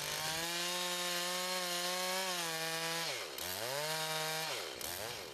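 A chainsaw runs loud and steady while cutting a pie cut into a log, its engine pitch sagging twice under load before recovering.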